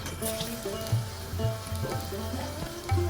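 Spice paste sizzling steadily as it fries in hot oil for a fish and eggplant curry, a continuous crackle with a few louder bursts where the pan is stirred.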